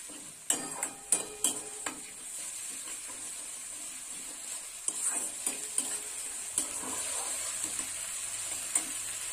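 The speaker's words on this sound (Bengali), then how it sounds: "দিয়ে দিলাম লঙ্কা বাটা। এবার একটু ভালো করে কষে নেব।" Ripe red chili paste stir-fried in a pan, with a low bed of sizzle broken by sharp, irregular spatula scrapes and taps against the metal, close up and with no speech.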